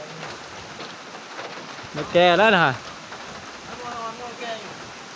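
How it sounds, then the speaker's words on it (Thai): Steady rain hisses throughout at close range, with a short voice speaking over it and a brief tonal, warbling sound rising above the downpour midway. "ฝนก็ตก"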